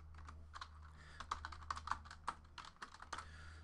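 Rapid clicking of a computer keyboard as hit results from a 2018 Leaf Valiant football card box break are entered, irregular key taps close and clear over a steady low hum, no talking.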